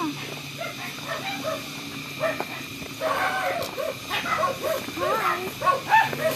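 Small dog yips and short barks come repeatedly at moderate distance, with faint voices murmuring in the background.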